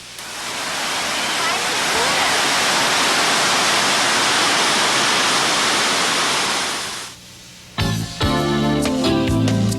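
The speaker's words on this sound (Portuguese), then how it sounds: "para curtir o barulho da cascata" A rural waterfall in the forest roars as a loud, steady broadband rush for about seven seconds, then cuts abruptly to music.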